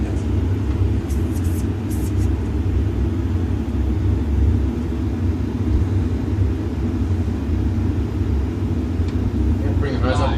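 A Boeing 737 in flight on approach fills the cabin with a steady, loud engine roar and broadband rumble. The drone holds constant throughout, with a faint chime and light clicks near the start.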